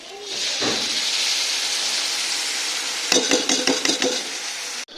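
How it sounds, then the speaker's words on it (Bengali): Chili chicken sizzles loudly in a pan, a steady frying hiss joined near the end by several quick scraping stirs against the pan. "এই যে চিলি চিকেনে পুরো ভাজা হয়ে গেছে"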